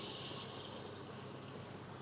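A cup of milk pours into paneer gravy cooking in a pan, giving a soft steady liquid stream that fades slightly toward the end.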